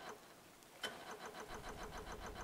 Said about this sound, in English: we turn both of our switches on. That'll get both the motors going.